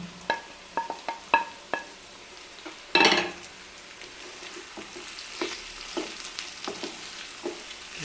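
Sliced onions sautéing in a pan for a pomfret fish dish: a soft continuous sizzle punctuated by sharp clicks and scrapes of stirring, with one louder hissing burst partway through, and no talking.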